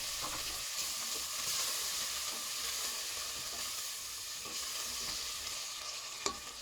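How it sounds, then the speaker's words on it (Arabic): Minced garlic and spices frying in a pot for spiced chicken rice, stirred with a steady sizzling hiss and occasional scraping clinks, close and continuous with no talking. "ورح أحركهم مع بعض تقريبا لمدة دقيقتين"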